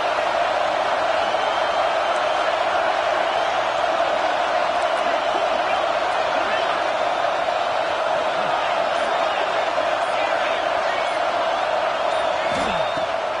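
Stadium crowd noise from the College Football 25 video game, a constant loud roar of the crowd that holds steady and unbroken for the whole stretch.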